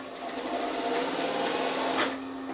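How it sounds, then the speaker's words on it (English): An industrial sewing machine for outdoor gear runs steadily once its treadle engages the motor clutch, a close, even mechanical whir with a constant hum that briefly swells near the end. "So you depress this treadle, that'll engage the clutch"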